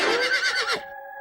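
A single horse lets out a loud, close whinny, a quavering neigh lasting under a second before it trails off.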